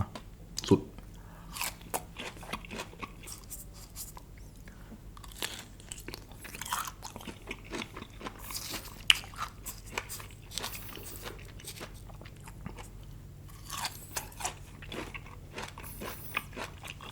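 Salt-pickled green mango bitten and chewed up close, giving repeated crisp crunches and wet chewing throughout with no talking.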